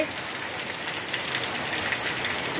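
Steady rain pours down on an evening during a flood, a dense broadband hiss of drops striking surfaces that holds close and even for the whole stretch, with no voices.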